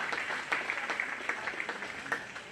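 Applause at a 4-H/FFA swine show for the State Fair Queen, a steady patter of clapping from a modest crowd, fairly faint and continuous throughout.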